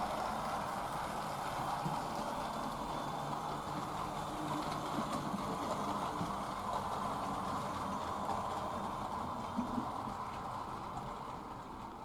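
Hornby J52 model steam locomotive hauling a pickup freight train on a model railway, a steady low running rumble with faint rail clatter, continuous and fairly quiet throughout.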